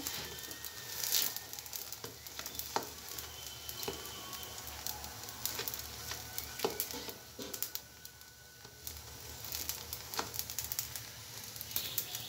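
An aloo paratha frying in oil in a pan, being pressed down, gives a steady close sizzle with crackling pops and occasional soft presses and scrapes throughout, with no talking.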